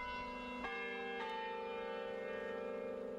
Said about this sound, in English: when the songs ring out from the bell tower